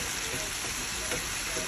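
Cucumber and pineapple stir-fry in a hot pan, giving a steady, dense sizzle and hiss that runs throughout at close range, with no one talking.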